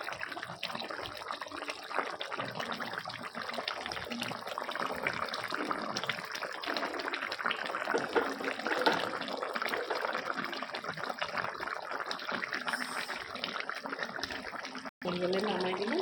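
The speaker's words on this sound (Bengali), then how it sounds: "হালকা টকবক করে ফুটবে।" Curry gravy bubbles in a pot on the stove, a steady close-up simmering hiss and gurgle running throughout.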